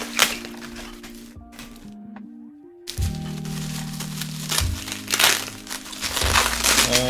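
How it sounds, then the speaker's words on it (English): Bubble wrap around a mailed comic book crinkles and rustles in bursts as it is handled and pulled away, with sharp crackles and a brief quiet gap between the handling. "Bubble wrap as well."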